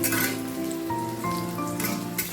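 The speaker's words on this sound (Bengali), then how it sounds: "দেখো কাঁকড়গুলো ভাজি হয়ে গিয়েছে" Pieces of spiny gourd (kakrol) frying in a pan with bay leaf tempering, a steady close hiss and crackle running throughout, with some kitchen clatter and no voice.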